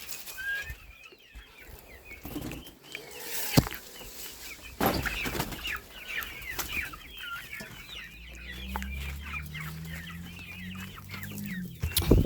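Chickens cluck and chatter steadily nearby outdoors, one lying in the sun, with a run of soft low clucks toward the end and some rustling and wing flaps.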